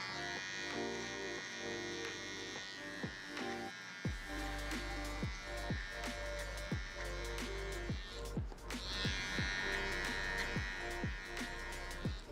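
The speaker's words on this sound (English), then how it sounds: "grabbing my cordless detailer LI and getting it as short as possible" A cordless hair trimmer detailer buzzes steadily while cutting hair very short in a fade haircut, with a constant electric drone broken by faint rhythmic clicks and strokes.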